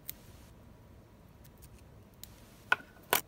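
Scissors trimming excess material from a tarpon fly, sparse faint ticks and then two sharp close snips near the end, with no voices.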